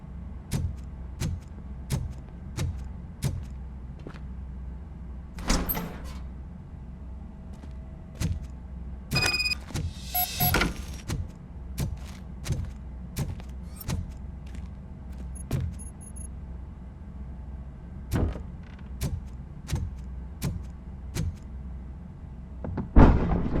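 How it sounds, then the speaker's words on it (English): Mechanical clanks and thuds of a door being worked open in the RoboCop: Rogue City video game, a regular series of heavy metallic knocks over a low hum with a few louder clattering bursts, no talking. "Now let me get that door open for you."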